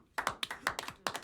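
Hands clap in a short, loose burst of about six sharp claps, close and fairly loud, ending in a fast pair.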